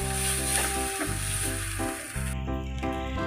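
Garlic sautés in hot oil for a drumstick pickle, giving a steady, close sizzle and hiss with light stirring, set against a continuous musical backing.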